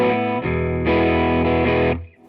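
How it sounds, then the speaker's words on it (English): An electric guitar played through a Crowther Hotcake distortion pedal on a transparent setting: sustained chords that shift a few times, then a held chord that rings steadily and cuts off near the end, with no talking. "I've got a hotcake here, just the Crowther hotcake, which is like my first distortion, my like most transparent one."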